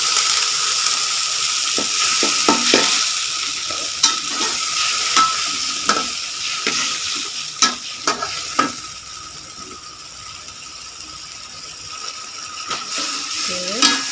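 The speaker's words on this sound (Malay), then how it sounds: "tuangkan sikit air panas" Sambal paste fries in a pan after a little hot water is poured in, a continuous sizzle broken by repeated sharp scraping stir strokes and clinks against the pan, with no voices.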